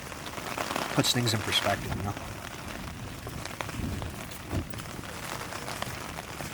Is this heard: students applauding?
no